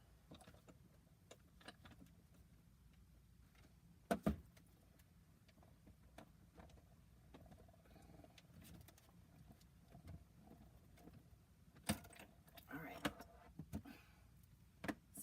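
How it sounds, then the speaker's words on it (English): A Stampin' Up die cut machine rolls a paper panel through. It gives a faint, close, steady low mechanical rumble with light ticking clicks and a couple of sharper clacks partway through. "So we've got that run through the die cut machine."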